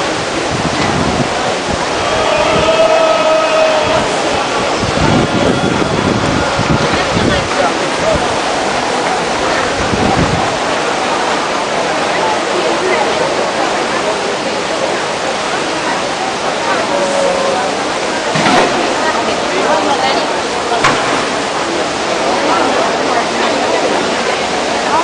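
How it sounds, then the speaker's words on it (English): The Trevi Fountain in Rome on a busy Sunday gives a loud, continuous rush of falling, splashing water, with a crowd murmuring underneath. "So the Fontana di Trevi, it is really one of my favorite places in Rome."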